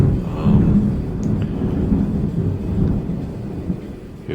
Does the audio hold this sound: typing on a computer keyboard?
no